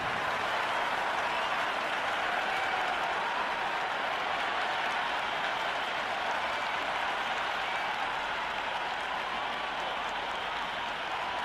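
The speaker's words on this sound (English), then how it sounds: "already the crowd making a hell of a racket" A large stadium crowd at a India versus South Africa T20 cricket match in Cricket 26 roars and applauds continuously, forming a dense, steady wall of cheering that holds loud and unbroken throughout.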